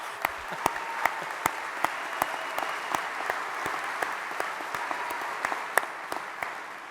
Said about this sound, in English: it's okay to applaud now